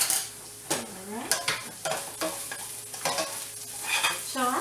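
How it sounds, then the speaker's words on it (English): Onions sautéing in a pot for chicken and white bean chili give a steady sizzle, broken by repeated scrapes and clinks of a spoon stirring against the pot, close up and with no talk. "The onions are starting to get a little, not just sauteed, but get a little couple of kind of crunchy on the outside of a few of them"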